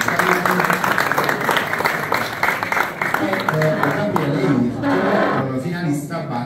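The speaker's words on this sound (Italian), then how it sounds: "un applauso per Chiara" Audience at a school award ceremony for students of an Italian liceo gives dense, steady clapping that fills the whole stretch and fades slightly toward the end.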